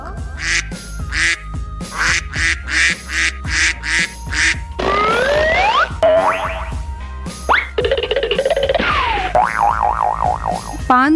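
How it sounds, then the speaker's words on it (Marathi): A duck quacks in a rapid series of close, nasal calls, followed by cartoonish boing and sliding sound effects that form part of a children's bird sequence. "बदक"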